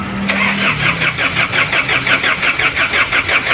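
A newly rebuilt diesel engine cranks briefly and catches, then runs loud and close with a rough, pulsing clatter at steady idle, with no talking over it.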